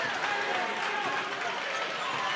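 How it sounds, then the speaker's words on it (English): A basketball crowd at a high school holiday tournament game swells into a loud, sustained roar of cheering, with a commentator talking over it. "the Massac crowd starting to get loud"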